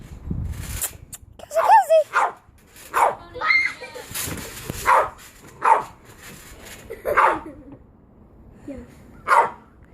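Several dogs, including a bulldog, bark in short sharp bursts spaced through the scene, with whimpers and yips between them, fairly close, while people talk over and around the noise.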